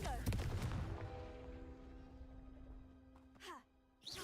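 A Confringo spell cast in the Hogwarts Legacy video game bursts out as a loud blast, then a sustained magical tone rings for a few seconds before a second whooshing burst at the end, with a brief voice and sigh at the start.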